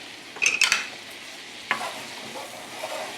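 Flour is stirred into a hot pan to start a roux for smothered chicken, with a quick cluster of utensil scrapes and clinks, another scrape later, and a low sizzle underneath.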